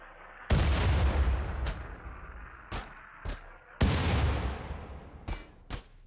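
Mortars in a colony video game fire two heavy booming shots, each followed by a few fainter thuds of distant impacts, with no voices.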